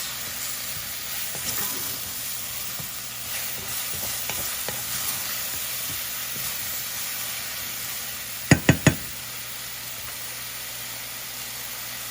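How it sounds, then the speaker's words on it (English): Mushrooms fry and get stirred in a pan for a chicken, spinach and mushroom pasta, a steady close sizzle with scraping stirs and a quick triple clatter of the spoon near the end. "So now let's give it a little cook for the mushrooms."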